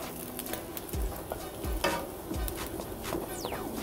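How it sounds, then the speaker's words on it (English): Naan bread sizzles and fries in a pan during home cooking, a steady close crackle with occasional soft clicks and stirring taps throughout. "Have some naan here in the pan."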